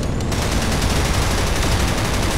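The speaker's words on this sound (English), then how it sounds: "they're dropping right into machine gun fire" Dense, sustained machine gun fire fills the whole stretch in the combat video game GRIP, a loud continuous rattle of rapid shots with no talking over it.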